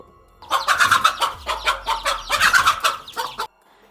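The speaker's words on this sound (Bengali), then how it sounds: "আসলে মা মুরগিটি এর বাচ্চাদের নিয়ে কোণঠাসা হয়ে গিয়েছিল" A mother hen clucks in rapid, agitated bursts while guarding her chicks from a cobra, loud and close, with a low rumble underneath partway through.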